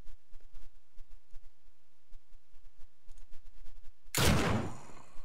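A burst of gunfire aimed at a zombie in the video game Dead State comes late and loud after quiet, sparse clicks, a dense blast that fills the closing second.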